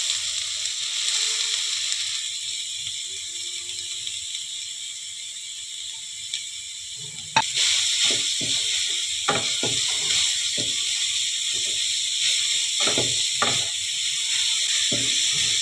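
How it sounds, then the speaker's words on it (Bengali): Grated carrots stirred in hot ghee for halwa: a constant sizzle with a sharp jump midway, then repeated scraping strokes of a spoon against the pan at an uneven rhythm. "ওই জন্যে আমি একটু ঘিয়ে নেড়ে নিচ্ছি।"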